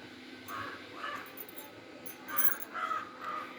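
A trapped crow gives a series of harsh caws, some single and some in quick pairs, moderately loud against faint background noise.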